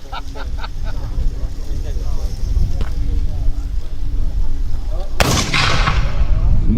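Voices and background rumble fill the first seconds at a historical reenactment picnic, then a single loud, sharp black powder cannon boom rings out and decays with a rolling echo.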